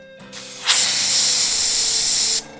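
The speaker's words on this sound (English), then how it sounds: "this isn't the best airbrush on the market, so sometimes I get a little bit of sputter" An airbrush sprays paint onto a Star Destroyer model in one loud, steady hiss lasting under two seconds, starting with a brief sputtering onset and cutting off sharply.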